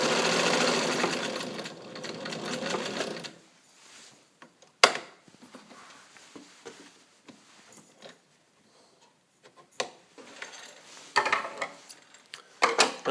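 A fully serviced 1942 Kenmore Rotary Streamline sewing machine, model 117.59, stitching fabric, running in a loud, steady whir for about three seconds, then stopping, followed by scattered clicks and light mechanical handling noises.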